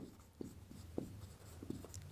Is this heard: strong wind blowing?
no